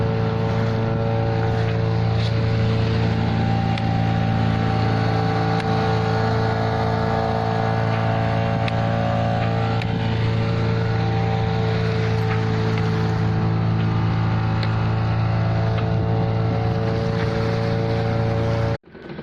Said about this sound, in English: We've been motoring for the last couple of hours